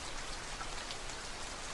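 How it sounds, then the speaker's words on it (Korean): Heavy raindrops fall steadily in a soft, even hiss, faint and continuous with no voice over it. "아주 세차게 내리는 빗방울을"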